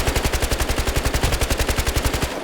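Rapid automatic gunfire in a Battlefield game, a steady stream of sharp, evenly spaced shots rattling on for a couple of seconds, loud and close.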